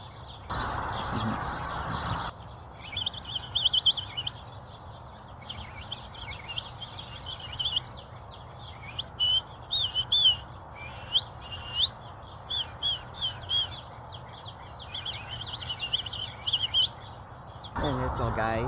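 Many small birds chirp and tweet around an outdoor spot where a squirrel is feeding, a steady scatter of short bright calls from several directions, moderately near, with a brief stretch of low ambient noise at the start.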